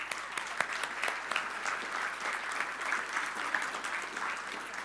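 Indoor applause from a conference audience greets a giveaway winner at a closing session, steady, dense clapping from a moderate-sized crowd heard at some distance, lasting about five seconds without a break.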